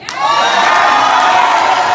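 A church congregation at a convocation service in Memphis screams and cheers together, a loud, sustained wall of crowd noise with shrill voices rising and holding steady throughout.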